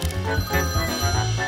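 A cartoon telephone rings in a steady, repeating electronic trill, loud and close, with no talk over it.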